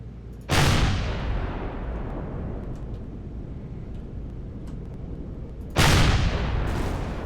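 Gunfire from enemy guns aimed at the player in the sci-fi survival game Empyrion Galactic Survival: two loud, heavy booming blasts several seconds apart, each trailing into a long rumbling roar.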